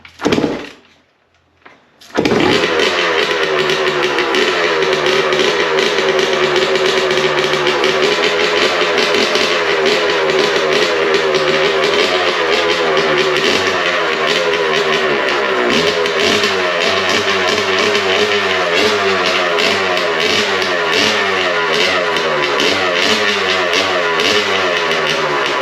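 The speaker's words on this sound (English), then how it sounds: "so now try starting it with your own choke" Old Honda CR 250 dirt bike two-stroke engine catches after a brief start attempt, then runs continuously loud and close for over twenty seconds, its revs rising and falling slightly.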